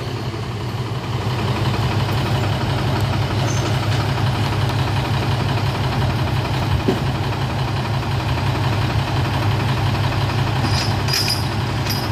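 A Hino 500 260 Ti truck engine idling nearby, a continuous loud diesel rumble with steady vibration and no change in pace.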